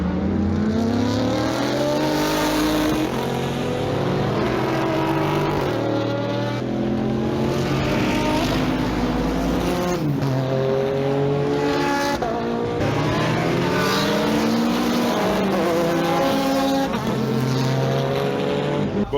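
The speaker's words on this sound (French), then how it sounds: "voici 2-3 passages de l'Endurance Racing Legend en sortie du virage de la source" Endurance Racing Legend race cars roar out of the La Source corner at Spa, several loud engine passes overlapping with rising and falling revs, continuous and close, with no talking.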